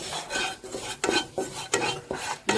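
Gram flour and turmeric being stirred and dry-roasted in a pan, a rhythmic series of rasping scrapes as a spoon drags through the powder against the metal, close and regular with brief pauses.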